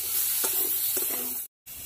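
Amra chutney stirred in a pan while it fries, with a steady close sizzle and two brief scraping strokes of the spoon, then a sudden short cutout to silence before the frying resumes.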